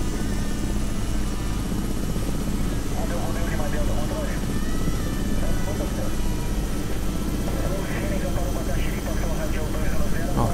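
A Robinson R66 helicopter preparing to take off, its turbine and rotor giving a loud, steady, unbroken drone with a faint whine throughout, and voices talking over it.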